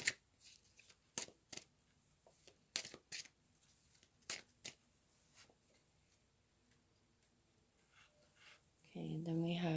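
Tarot cards being shuffled and handled in a short series of brisk, close riffles and slaps with quiet pauses between, followed by a louder continuous rustle near the end, with no talking.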